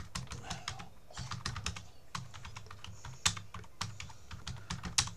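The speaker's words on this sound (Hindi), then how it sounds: "जब मैं किसी इमेज पे मैं टाइप अगर करना चाहूँगा" Rapid, steady keystrokes on a computer keyboard, close and clear throughout, with a few louder key hits standing out from the even tapping.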